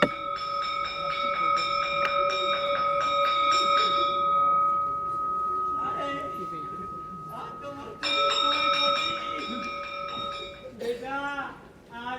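A school bell rings on stage during a theatre performance at Ravindra Manch, Jaipur, in two bright, sustained bursts of rapid ringing with voices talking between them.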